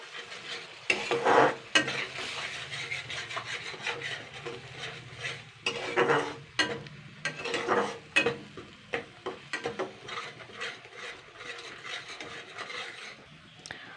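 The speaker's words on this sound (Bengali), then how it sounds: "এইভাবে কিন্তু কষিয়ে যেতে হবে অন্তত তিন চার মিনিট ধরে" Spice paste sautés in a pan, with a soft sizzle under repeated scraping stirs of a spoon against the pan, irregular clinks and bursts coming close and fairly quiet, no talk.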